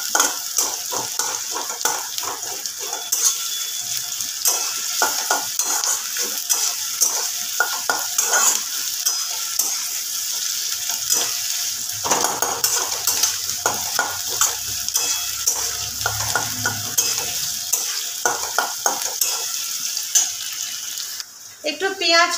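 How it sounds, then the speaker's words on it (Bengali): Chopped onion frying in a pan for mutton keema curry, a continuous close sizzle with busy stirring and scraping throughout, fairly loud, with faint talk underneath. "একটা বড় পেঁয়াজ কুচিয়ে নিয়েছিলাম। কিছুটা ভেজে দেব আর কিছুটা আমি ভেজে দেব।"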